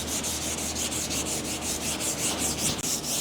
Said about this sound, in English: you can put a nice firm push on the sandpaper and get it to block nice and even